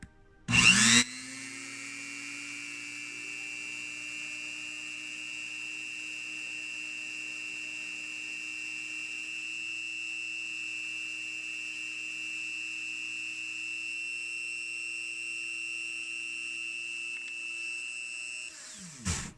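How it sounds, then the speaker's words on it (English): A Dremel rotary tool sands the edges of resin jewelry, giving a steady high-pitched whine that starts abruptly, holds loud and even for about eighteen seconds, then cuts off. "it's a Dremel, I don't know which it is. And I use that to just sand things off."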